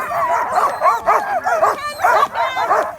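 Sled dogs bark and yip excitedly at the start chute of a long-distance mail race on a northern highway, a dense chorus of overlapping barks and whines close by, continuous and frantic throughout.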